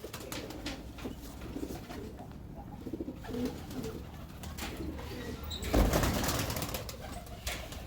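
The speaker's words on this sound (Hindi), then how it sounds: "ले जी एक ये कबूतर आ गया।" Pigeons coo repeatedly in a loft, soft and moderately close, with a brief rustle or flutter partway through against steady background noise.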